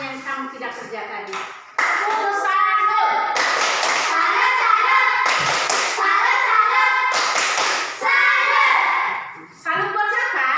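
A group claps together in a classroom-style setting, loud bursts of hand claps over a lively mix of voices and children talking, with short pauses between rounds.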